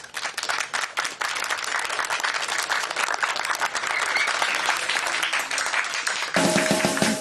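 An audience at a Limburg stage show applauds a band arriving on stage: loud, crowded clapping that dips briefly near the start, then swells steadily before the band's music kicks in at the very end.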